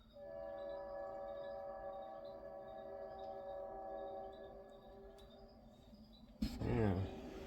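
A train rolls past outside a garage, a steady harmonic rumble and drone filling most of the stretch, then a louder burst of clatter near the end, with no talk in the clip.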